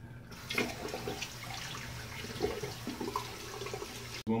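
Water running steadily from a bathroom tap as a face is rinsed after shaving, a continuous close splashing wash with small spatters, broken by a brief silence just before the end; no talk.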